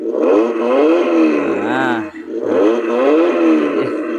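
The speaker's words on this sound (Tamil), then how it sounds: "நம்ம இப்போ இன்ஜின் ஆன் பண்ணிக்கலாம்." The small motor of a restored radio-controlled JCB-style backhoe loader starts up and revs, its high whine rising and falling in repeated sweeps, loud and close.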